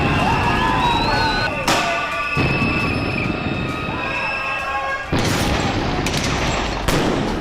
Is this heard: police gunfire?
yes